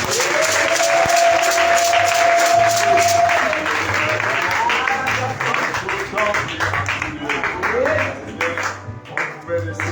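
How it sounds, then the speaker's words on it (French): A church congregation claps loudly and steadily with cheering voices at a worship service; a sustained tone rings out early, and the applause gradually thins toward the end. "Et merci pour les acclamations."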